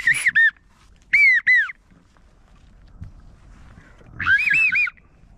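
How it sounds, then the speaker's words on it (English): A flock of wigeon ducks calls on a foggy morning during a duck hunt, with bursts of sharp whistled notes in three clusters: two quick pairs near the start and a longer chattering run near the end. "God, these wigeon are everywhere. Very chatty."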